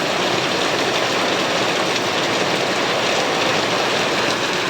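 Very heavy rain pours down steadily in a dense, loud, unbroken roar with no gaps, a man out in the downpour after delivering bottles and plastics.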